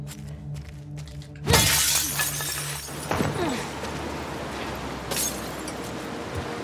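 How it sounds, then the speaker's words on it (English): Glass shatters loudly in The Last of Us Part 2, a sharp crash followed by a long tinkling spill of shards over tense ambient game sound, with a second impact a little later. "I'm gonna have to break the glass"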